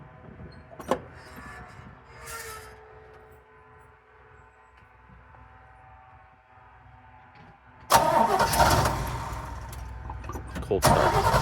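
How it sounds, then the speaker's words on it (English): A 1962 Chevrolet C20 pickup carrying a Cree chassis-mounted camper, with a 327 V8 and three-on-the-tree, cold-starts with a loud sudden catch that settles into a steady rumble after quieter earlier sounds and some talk. "Rob's gonna fire it up right now"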